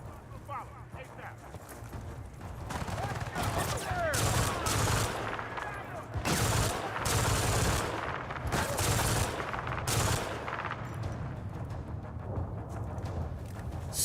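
An MG3 machine gun in Battlefield 6 fires in repeated rattling bursts amid battlefield noise, moderately loud and sustained over several seconds, with voices talking in the background.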